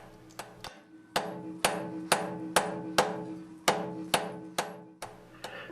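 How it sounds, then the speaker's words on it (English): Hammer blows on hot steel during forge welding, about a dozen sharp ringing strikes in an uneven quick rhythm, fairly close and clear with no talk. "I hammer quickly, return it to the fire"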